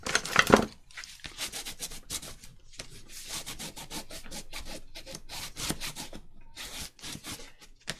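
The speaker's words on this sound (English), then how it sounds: "Then I'm going to burnish it down, good and proper." Framer's tape being burnished down onto paper with repeated firm rubbing strokes, a steady scraping rasp that runs continuously and close up, with a sharper burst at the start.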